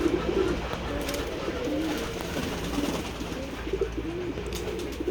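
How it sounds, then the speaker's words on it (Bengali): Pigeons at a pigeon farm in a village, with repeated soft low cooing calls from several birds close by over a continuous background hum, with no talking. "এই যে দেখতে পাচ্ছেন আমাদের ফার্ম হাউস খামারের কবুতরের খামার এটা।"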